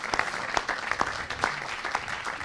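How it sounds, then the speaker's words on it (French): Applause from a small conference audience at a round-table session, steady clapping for a couple of seconds with no voices over it. "On peut l'applaudir."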